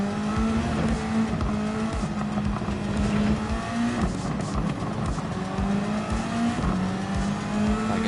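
Turbocharged race car engine in the video game Gran Turismo 7, revving hard and climbing steadily through the gears with repeated shifts, loud and continuous with a whining tone.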